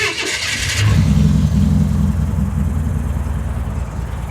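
An old custom car, a cheap kustom, cranks over after a timing change with a short whirring start, then catches and runs with a loud, close, rising rumble that settles into a steady, slightly lumpy idle.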